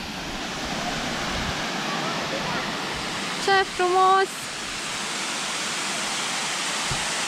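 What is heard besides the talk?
waterfall in a Romanian forest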